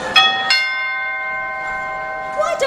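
A shiny bell in a children's Toytown puppet show rings with bright metallic strikes, a couple of clangs near the start and another at the end, each leaving a long shimmering ring.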